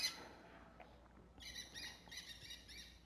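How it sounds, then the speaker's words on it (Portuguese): Birds singing in the Amazon region: faint high repeated chirps and trills heard at a distance over quiet background. "Vocês estão ouvindo os passarinhos?"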